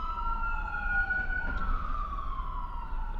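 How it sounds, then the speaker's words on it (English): An ambulance siren wails as it drives by a porch, its rising and falling tones loud and close over low road rumble, with no talking. "as an ambulance is driving by"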